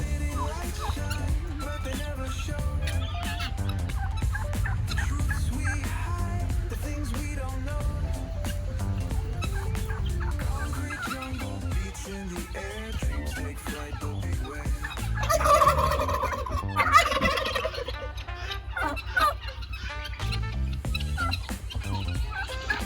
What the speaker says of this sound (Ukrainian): Ми можемо продати одного материнського індика і ще одного молодого.